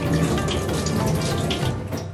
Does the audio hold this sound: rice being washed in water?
yes